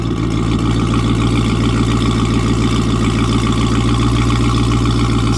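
A modified 1000hp Jeep Trackhawk idles after a warm start, a steady, loud, throaty low rumble that holds evenly throughout with no talking over it.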